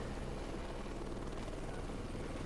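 Helicopter in the video game Heliborne flying steadily, a constant broadband rotor and engine drone that fills the clip at moderate loudness without pause or speech.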